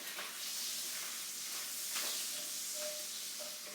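Bacon frying in a pan for bacon-fried sweet corn, a steady bright sizzle and hiss close up, with light scraping or stirring clicks over it.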